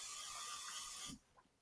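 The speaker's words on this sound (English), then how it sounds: "It's going to spray it with a little bit of oil to keep it so it's non-stick." Cooking oil hisses from a spray can onto a steaming tray in a short continuous burst that cuts off abruptly, followed by faint clicks.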